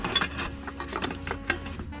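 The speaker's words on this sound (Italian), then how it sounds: "Per rimuovere il filtro dell'olio utilizzo questa chiave qui." Clicking ratchet-like metal turns of a wrench loosening the oil filter on a Land Rover Discovery Td5 engine, several close, rhythmic clicks over a couple of seconds.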